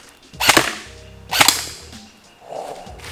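An airsoft gun fires twice at a target, each shot a sharp snapping crack with a quick metallic hit, spaced about a second apart, followed by a softer thud.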